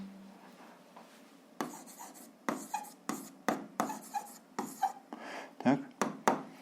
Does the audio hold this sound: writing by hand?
yes